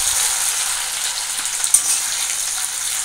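Crushed ginger, garlic and green chilli frying in a little oil, a steady bright sizzle close by with one small clink partway through, no talking.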